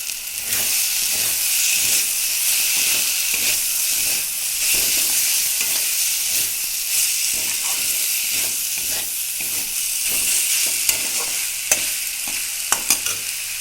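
Bitter gourd frying in spiced masala in a pan, a constant bright sizzle with regular scraping stirs of the spatula and a few sharp clinks near the end.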